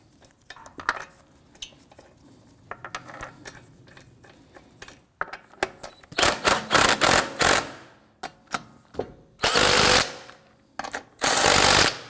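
Bolts on a 2001-2009 Volvo S60 front sway bar end link are run down with a power tool, starting with scattered metallic clicks and taps, then several loud, buzzing bursts of a few seconds each, close up with no talking.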